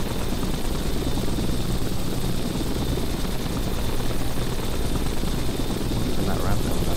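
Loud, steady helicopter rotor and engine noise from Microsoft Flight Simulator X fills the whole stretch, continuous and close, with a faint voice underneath.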